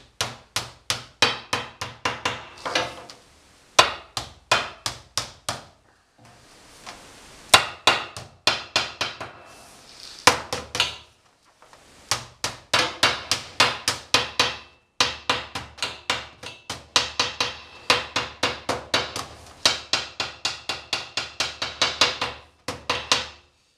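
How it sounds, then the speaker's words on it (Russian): A hammer strikes tin sheet being bent and shaped for a homemade washstand, sharp metallic blows in quick clustered bursts separated by brief pauses, close and loud, with no talk. "можно это делать обыкновенным молотком"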